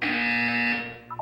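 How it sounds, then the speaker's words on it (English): A loud, steady electronic buzzer tone from the video game Portal 2 holds for most of a second, then fades and gives way to short higher chimes. "When you hear the buzzer, look up at the ceiling."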